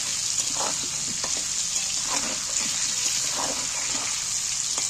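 Salted potato pieces fry in a pan while a Bengali chicken curry with potatoes is being cooked. A steady, close sizzle continues throughout with no talking.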